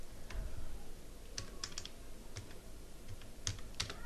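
Rapid, uneven key clicks from a computer keyboard, close and fairly quiet, set against a faint steady room hiss with no voices.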